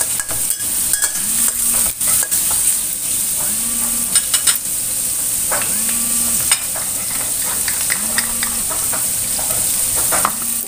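Shrimp sizzle steadily in hot oil in a pan while a utensil stirs and scrapes them, with repeated clacks and scrapes. A bleating goat is heard several times in the background.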